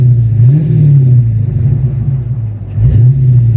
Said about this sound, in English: the exhaust always sounds deeper, and of course the car picks up speed much faster